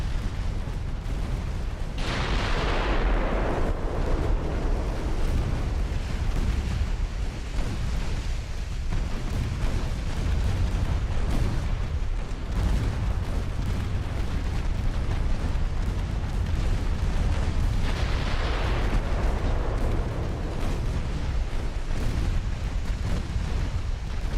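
Torpedo explosions in a naval war video game, heavy booming bursts over a constant rumbling battle din, with two big blasts standing out several seconds apart.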